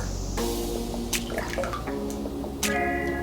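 Buttermilk is poured into a medium mixing bowl for a from-scratch cornbread batter, giving a short, close liquid glug and splash with a couple of soft drips and no talking.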